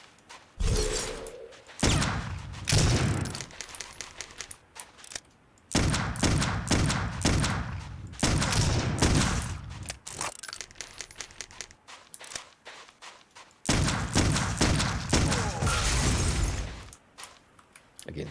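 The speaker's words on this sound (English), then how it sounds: "This is one of the better pistols I've seen in first-person shooters" Pistol gunfire in the video game Clive Barker's Undying, loud bursts of repeated sharp shots in several rapid volleys separated by short pauses, with clattering mechanical noises between them.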